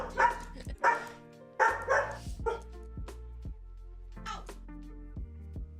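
A dog barks in a quick run of loud, close yaps and woofs indoors, then gives a few softer, scattered barks and yips.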